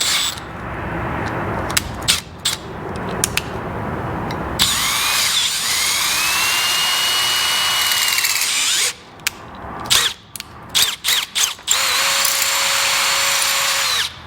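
A power drill with a 6.5 millimeter bit whirs loudly up close, with long sustained runs broken by quick stop-start trigger bursts as the bit grinds through aluminum on a VW Beetle pedal assembly.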